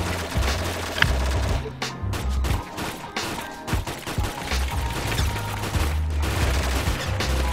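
Gunfire in the military video game ArmA during a squad assault on a building, sustained fusillades of loud rapid shots with heavy thumps and crashes, a nearly continuous barrage with brief dips.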